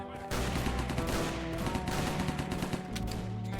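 Rapid bursts of gunfire in the video game Chronicles of Vipers rattle continuously over a droning background, fairly loud and sustained with overlapping shots.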